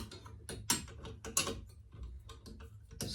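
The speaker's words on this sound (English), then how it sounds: "Take my half-inch wrench" A half-inch wrench tightens the collar on a Coleman 220H lantern, giving quiet, irregular metallic ticks and clicks close up.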